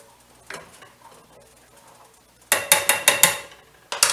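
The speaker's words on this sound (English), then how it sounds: "I'll stir my milk a little bit over here" A spoon stirring milk in a pot on the stove, soft scraping at first, then a quick run of sharp, loud clinks and scrapes against the pot, with one more clink at the end.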